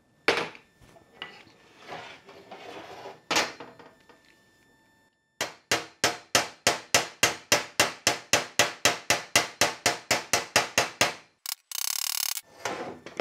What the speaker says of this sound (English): just try a little hammer and dolly on it